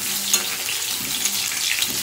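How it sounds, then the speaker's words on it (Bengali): Meat and potatoes frying together in a home-kitchen pan give a steady, close hiss of oil with faint clinks, continuous over the whole short stretch and with no talk. "এবার মাংস আর আলু ভাজতে দিয়ে দিয়েছি দেখো বন্ধুরা।"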